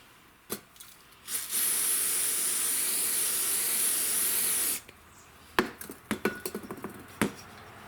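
Brake cleaner hisses in one steady, loud spray for about three seconds onto the clutch shaft of a STIHL FS56 string trimmer, framed by sharp clicks and taps of handling before and after.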